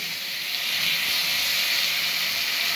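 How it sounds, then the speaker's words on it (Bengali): Water poured into a hot kadai holding mourola fish curry with mango sets off a loud, broad, steady steam hiss that continues without a break. "পরিমাণ মতো জল দিয়ে দিচ্ছি।"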